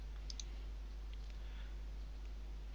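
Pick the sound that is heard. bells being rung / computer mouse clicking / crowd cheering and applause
computer mouse clicking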